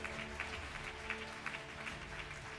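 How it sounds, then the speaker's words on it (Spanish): Congregation applause at a church service, a steady wash of clapping with a few sharper bursts, moderately distant and fairly quiet throughout, no voices standing out. "¿Cuántos dan un aplauso al Señor?"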